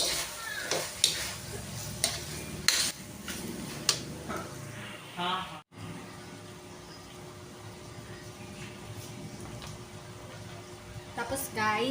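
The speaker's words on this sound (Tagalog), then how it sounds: "Hinalo ko na rin yung hotdog guys." Hotdogs frying in a pan for spaghetti being stirred, a steady sizzle broken by scraping and knocking of the utensil against the pan, with a brief voice near the end.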